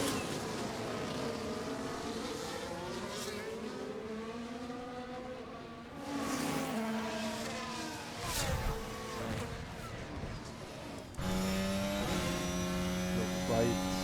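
Race cars accelerating side by side during a Brazilian Grand Prix, engines roaring loud and continuous with rising and falling revs as one car tries to pass another on the inside; a second high-pitched engine cuts in near the end.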